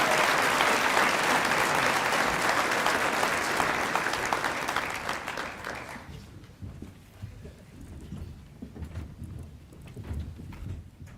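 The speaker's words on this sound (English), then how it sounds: "Round of applause for the Rock Canyon High School athletes." Applause from a luncheon crowd honoring Rock Canyon High School athletes at a girls and women in sports event, a dense, loud wash of clapping that thins into scattered claps and room noise after about six seconds.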